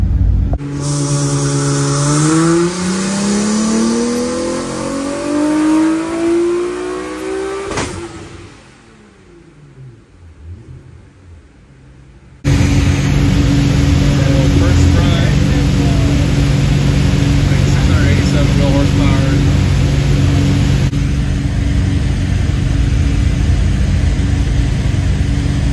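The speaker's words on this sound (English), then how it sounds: "we're just gonna drive the car, make sure drivability is good, make a quick pass on wastegate pressure" A 900hp turbocharged Nissan 370Z on a tuning drive pulls hard, its engine note climbing steadily for several seconds before dropping away, then returning as a loud, sustained drone.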